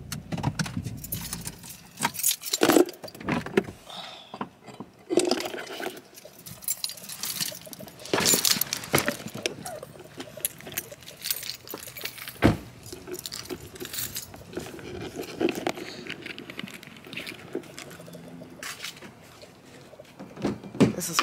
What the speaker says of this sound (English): I'm moving her car right now.